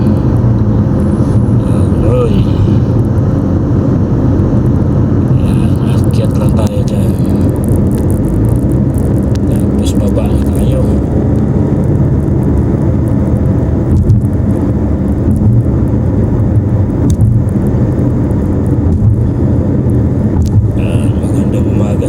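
Road traffic heard from inside a car on a congested road: a steady low engine and road rumble fills the whole stretch, with passing vehicles adding occasional swells, constant and fairly loud.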